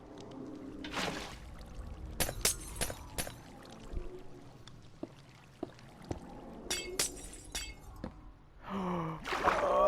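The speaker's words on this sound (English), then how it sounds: "I broke the glass, and the glass is gonna flood down the bottom steps." Glass blocks breaking in Minecraft, with a series of sharp clinks and shattering crashes at irregular intervals over flowing water and quiet background.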